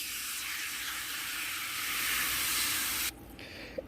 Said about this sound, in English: let's start with the cleaning spray. I'll shake that up, and we're going to put that into section 1 here.